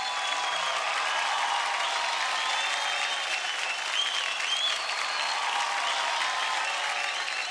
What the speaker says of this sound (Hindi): जोरदार तालियां हो जाए इनकी दोस्ती के लिए यार